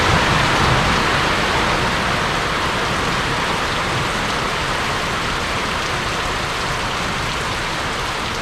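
Steady rain pours at night in French Guiana, a dense, even hiss of drops on surfaces that stays constant and fairly loud throughout, with no voices.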